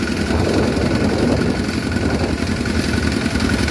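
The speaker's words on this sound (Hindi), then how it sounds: "देखिए उधर से ट्रैक्टर आ रहा है।" A tractor on a village road, its engine chugging steadily and fairly close, with a continuous low rumble throughout and no voices.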